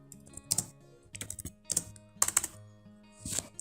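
Keystrokes on a computer keyboard while PHP class code is typed, coming in short clustered bursts of clicks with brief pauses between them, close and clear, with no talk over them.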